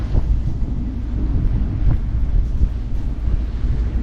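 A strong 20-knot headwind roars across the microphone on a sailboat pushing north through waves, with a steady rushing gust and water wash throughout and no voices.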